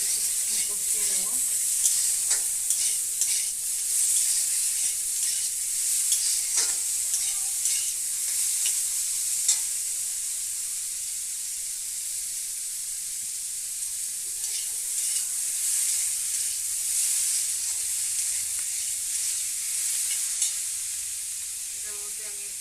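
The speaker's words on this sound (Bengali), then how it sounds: "আমি এবার এটা কষিয়ে নেব।" A salted spice mixture sautés in a pan, turmeric and ginger paste about to follow, with a steady close sizzle and frequent scraping stirs of a spoon against the pan; faint talk surfaces briefly in places.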